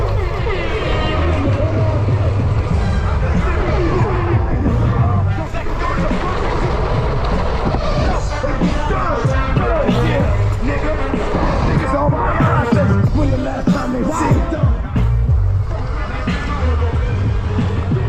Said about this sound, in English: It's gonna be insane crowd, like already so many people.